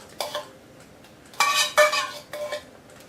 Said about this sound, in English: I'm going to go ahead and put in my lump of crab meat here.